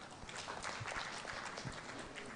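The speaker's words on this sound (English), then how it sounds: "A round of clap for her." Scattered applause from a conference audience for a presenter at the end of a talk, faint and somewhat distant, with uneven clapping throughout.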